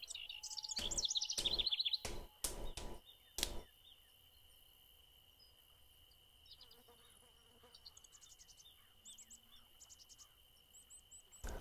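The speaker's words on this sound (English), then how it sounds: "Still trying to figure out why there's daybirds chirping around here at 11:35." Birds chirp faintly in the Fishing Planet video game at night, in scattered trills over a steady insect buzz, after a few loud sharp clicks at the start.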